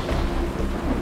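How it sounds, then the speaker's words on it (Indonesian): Steady heavy rain with low rumbling thunder heard outdoors while walking, a dense continuous wash of sound with no voices. "Kok hujan-hujanan aja jalan kaki."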